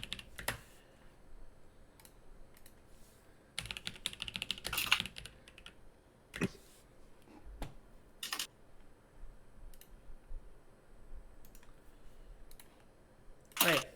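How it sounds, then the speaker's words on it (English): Quiet, close typing on a computer keyboard during a tabletop roleplaying game session, irregular bursts of key clicks with pauses and a few sharper taps. "Sorry if my typing's loud"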